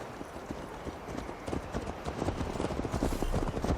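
Hooves of a horse gallop in a steady, rapid clip-clop rhythm in Assassin's Creed Valhalla, loud and close, building slightly in intensity over a bed of low rumble.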